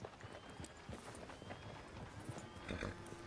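A horse walks in Red Dead Redemption 2, its hooves clip-clopping in a steady, fairly quick rhythm of close, distinct hoofbeats.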